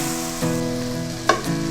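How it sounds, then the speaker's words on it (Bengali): Rice and spices for hilsa pulao frying in a pan while being stirred constantly, giving a close, steady sizzle with occasional scraping strokes and a steady hum underneath. "আর কোনো অবস্থাতেই চালটা নাড়া থামানো যাবে না"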